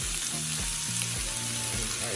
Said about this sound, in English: Let's get this chicken in there, y'all.